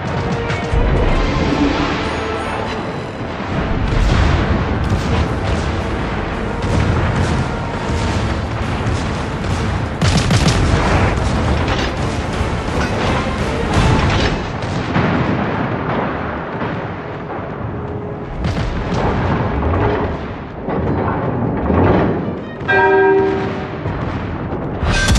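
Naval battle in World of Warships at Solomon Islands, a destroyer blown up: heavy booming explosions and crashing gunfire roll on continuously and loud, with dense rumbling blasts and bursts throughout.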